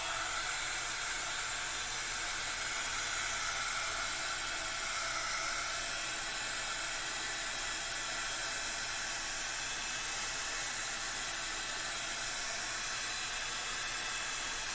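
A hot-air gun or dryer blows steadily while drying a vinyl transfer being laid down, giving a continuous, even hiss and rush of air that holds near and constant throughout with no talking.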